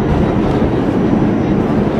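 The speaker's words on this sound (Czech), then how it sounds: "Expresní metro, které nezastavuje" New York express subway train roars loudly through a station without stopping, a dense, steady rumble and rattle up close with no speech.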